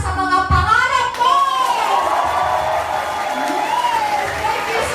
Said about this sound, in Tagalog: yung pinakamalakas mong palakpak para sa mga pangarap mo